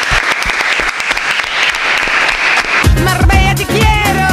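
An audience applauds for Marbella Te Quiero, loud dense clapping that carries on steadily before music with a beat joins in underneath partway through.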